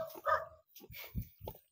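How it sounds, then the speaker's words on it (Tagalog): Dogs barking at a house beside a rural farm path in the Philippines: a short yelp followed by three quick, lower barks at close range. "Maraming aso din sa bahay na ito."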